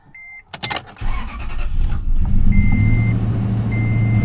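A truck engine idling after repair work: a short burst of clattering handling noise, then a steady low idle rumble that holds throughout, with a thin electronic chime tone sounding on and off above it.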